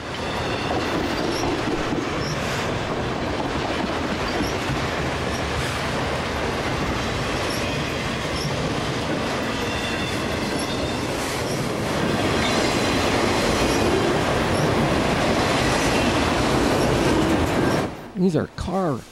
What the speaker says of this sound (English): And a super long train.